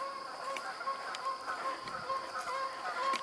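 Two geese call repeatedly with nasal honks at an uneven pace, moderately loud and somewhat distant, against faint background noise.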